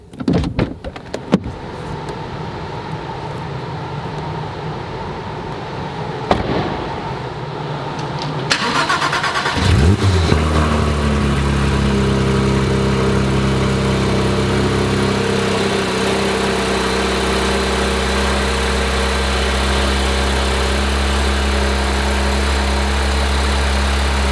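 A 2018 Porsche 911 GT3 Touring in racing yellow, manual, cold starts about ten seconds in with a loud starter whir and flare, then settles into a steady, rumbling idle that runs to the end, with no talk.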